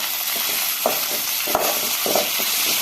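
Mint leaves sauté in a pan over onions that were fried first, giving a steady close sizzle broken by a few sharp spatula scrapes and stirs, with no talking.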